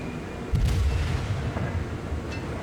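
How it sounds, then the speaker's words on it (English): An enemy destroyer blown up in a naval warship video game, a deep booming explosion that rumbles on under steady game background noise, with a fainter thud a second later. "Enemy destroyer blown up."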